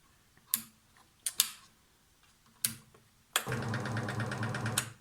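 Scheppach Deco XL scroll saw: a few sharp clicks and knocks of the switch, then the motor starts and runs with a steady, fast rattling buzz of the reciprocating blade, close and alone.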